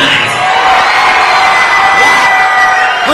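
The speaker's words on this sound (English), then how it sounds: "Listen to that roar of the crowd." A large wrestling event crowd roars and cheers continuously at close range, with shouts and whoops rising out of the dense wall of noise for the whole stretch.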